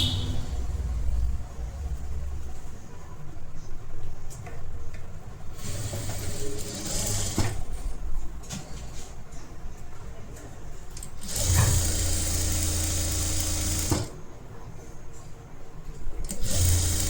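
A sewing machine stitches blouse lining in bursts, its rapid mechanical whir starting and stopping several times at close range, without talk.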